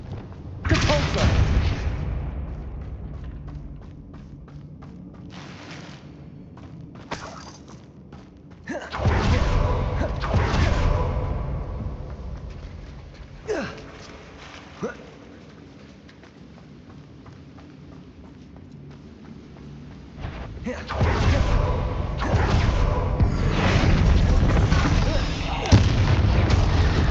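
Depulso spell cast in Hogwarts Legacy, heard as loud booming blasts that come in bursts with quieter stretches between them, set against steady game background sound.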